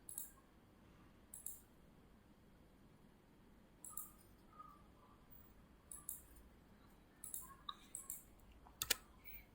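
Sparse, quiet clicks and taps on a computer keyboard and mouse, coming in small irregular clusters over a faint background hiss.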